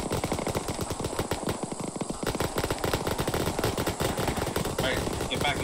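Sustained automatic gunfire in the military shooter Arma 3, dense rapid bursts rattling continuously and loud throughout, with voices calling out over the shooting.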